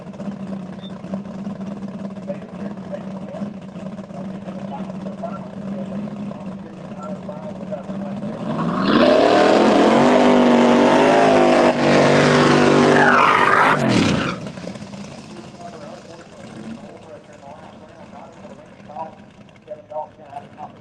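A Fox Body drag race car with TRE power makes an X275 shootout run, a loud roaring engine blast that swells for about five seconds, then fades as the car pulls away, with commentary talk before and after.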